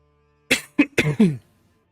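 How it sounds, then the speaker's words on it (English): A short run of four quick, close coughs in succession, then quiet. "I was trying to mute my cough."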